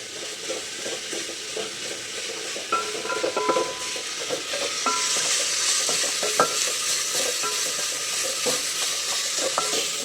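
Tomatoes sauté in a pan for a green gram curry, with a steady soft sizzle under repeated scraping and clinking stirring strokes of a spoon, close by and continuous, with no talking.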